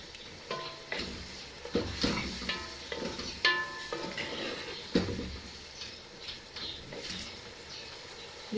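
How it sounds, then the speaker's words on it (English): Tomatoes fry in a pot for peanut soup while a utensil stirs them, with scraping strokes and soft clatter over a steady sizzle at close range, irregular bursts of activity throughout. "And stir. If you notice, you see that the tomato is shrinking."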